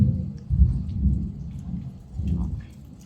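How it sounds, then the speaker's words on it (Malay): Heavy rain pours down with strong wind while deep thunder rumbles and swells in low rolling waves, close and continuous. "Lebat pula dengan angin yang kuat dan hujan yang lebat, betul-betul lebat"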